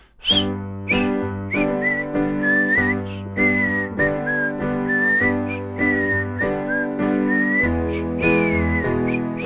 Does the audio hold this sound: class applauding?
no